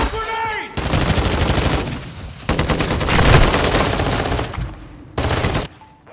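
Gunfire in Call of Duty: Modern Warfare II comes in loud, dense bursts of rapid automatic shooting, broken by short lulls, with a final sharp burst near the end.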